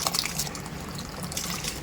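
Basmati rice, soaked beforehand, tipped into a pot of boiling water for biryani: a short watery rush and splash with bubbling, fairly close and steady, no talking.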